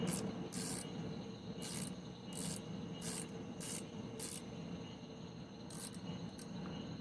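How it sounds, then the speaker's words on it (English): A ratchet backs a screw out of an HPI Savage nitro RC transmission, giving faint bursts of quick clicking at irregular intervals over a steady low background hum. "Right out with the ratchet."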